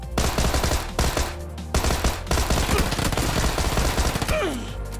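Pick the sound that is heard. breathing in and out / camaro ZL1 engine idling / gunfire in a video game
gunfire in a video game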